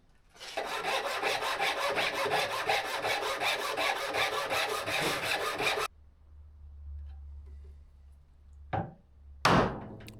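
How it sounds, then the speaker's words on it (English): Handsaw notching wooden legs for a camp kitchen stretcher, rapid close rasping strokes for several seconds that stop abruptly, followed by a quiet low hum and a couple of short sharp knocks. "Here I am notching the legs so that I can install that stretcher"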